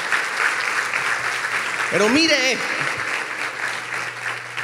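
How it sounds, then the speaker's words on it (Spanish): A church congregation claps in a steady wash of applause throughout a sermon, with a preacher's voice briefly speaking over it. "Si le va a aplaudir a Dios, apláudala a Él con ganas"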